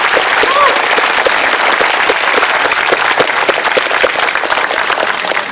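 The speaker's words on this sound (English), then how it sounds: "Can we give them a round of applause, please?" Crowd applause at the Dalton Defender Days in Coffeyville, Kansas, honoring veterans, with steady dense clapping sustained loudly throughout.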